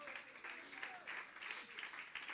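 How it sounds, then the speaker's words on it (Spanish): A church congregation applauds for the Lord during a sermon, a loud, steady patter of many hands clapping throughout, with some voices mixed in. "Dale un aplauso al Señor."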